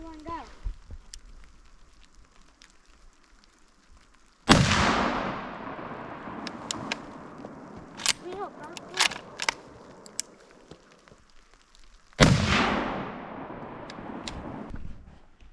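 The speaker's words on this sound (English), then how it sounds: "sighting his rifle in for 20 yards" Two loud rifle shots ring out outdoors about eight seconds apart while a rifle is sighted in at 20 yards, each a sharp crack with a rolling echo, separated by scattered clicks and faint handling noise.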